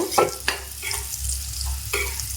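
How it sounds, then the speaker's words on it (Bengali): Chopped onions, green capsicum and green chillies frying in a pan while being stirred, with a soft sizzle underneath and a few sharp spatula scrapes and knocks against the pan. "এখন সবকিছু মিশিয়ে আমি আবার খুব ভালো করে একটু ভেজে নেব।"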